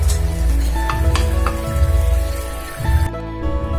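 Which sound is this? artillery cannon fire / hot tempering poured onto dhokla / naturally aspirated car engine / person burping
hot tempering poured onto dhokla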